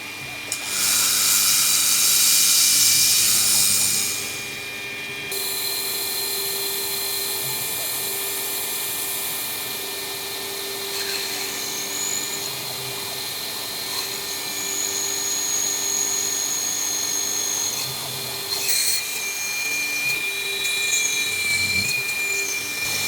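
A drill with a 3/16 inch bit whines steadily on a metal canopy bracket, a loud high-pitched burst at the start, then a sustained grinding hum with brief louder bites near the end.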